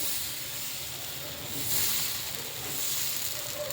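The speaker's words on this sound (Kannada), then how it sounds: "ನಾನು ತವಾ ಬಿಸಿ ಇಟ್ಟಿದ್ದೀನಿ. ಇದಕ್ಕೆ ನಾನು ಇವಾಗ ದೋಸೆ ಹಾಕ್ತೀನಿ." Green gram and cucumber dosa batter sizzles on a hot tawa with a steady, close hiss that swells briefly twice. No voices are present.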